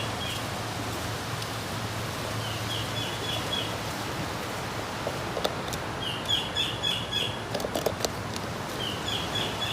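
Bird calling outdoors, short high chirps repeating in bursts over a steady hiss of background noise, fairly faint and distant, with no voices.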